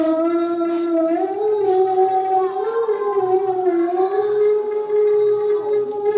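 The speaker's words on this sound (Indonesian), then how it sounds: "Dijawab ya kalau dengar adzan." A single voice chanting the call to prayer in a long, sustained, wavering melodic line, loud and echoing as if through a loudspeaker.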